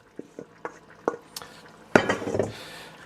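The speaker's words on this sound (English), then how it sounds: "Give that a good stir." A utensil stirs bacon and sausage pieces in a metal pot, giving several light knocks and scrapes followed by a louder clattering stir with some faint sizzling, close by.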